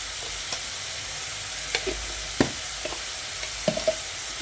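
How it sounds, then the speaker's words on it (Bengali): Spice masala of turmeric, cumin and coriander powders fries in oil, giving a steady close sizzle with occasional light ladle taps and stirring scrapes. "এবার মশলাটা দিয়ে খুব ভালো করে কষিয়ে নিতে হবে।"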